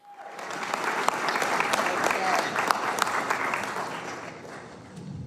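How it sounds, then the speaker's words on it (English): A crowd applauds Sheila Johnson at a DC welcome-home event, with loud, dense clapping that swells quickly and holds steady for several seconds, with scattered sharper claps standing out and a voice faintly underneath. "Everybody give a big round of applause to Sheila Johnson."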